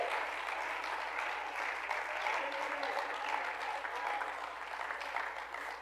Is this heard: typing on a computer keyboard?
no